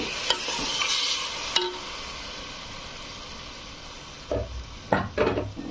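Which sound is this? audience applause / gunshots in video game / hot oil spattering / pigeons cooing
hot oil spattering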